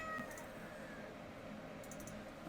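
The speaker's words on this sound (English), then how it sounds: "My cat's freaking me out." A house cat meows faintly a couple of times against a steady low room hum, with a few light clicks in the background and no talking.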